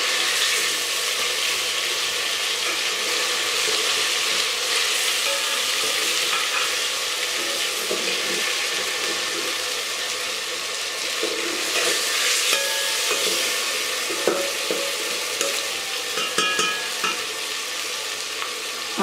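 Fish frying in a pan on a lowered flame, a continuous loud sizzle carrying on throughout, with occasional light clinks and scrapes from a spoon turning the pieces.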